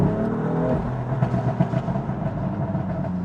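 A BMW M4 Competition Pack engine revs in second gear, giving a steady, close, deep droning growl with a strong low rumble that wavers slightly throughout.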